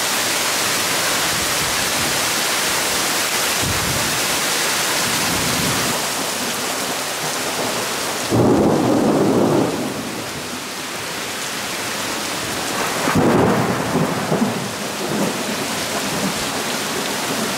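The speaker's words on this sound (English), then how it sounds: "The rain was coming down in sheets." Heavy monsoon rain pours down in a steady, loud roar, with deeper rumbling swells of thunder rolling through twice.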